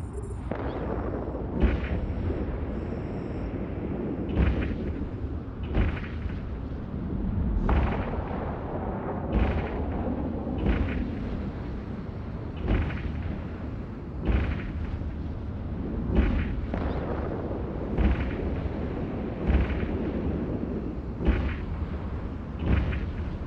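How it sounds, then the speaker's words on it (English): Spaceship weapons in Eve Online fire in regular booming blasts, a sharp impact roughly every two seconds over a low rumbling hum, with no talking. "Now it's time to engage your weapons, Captain."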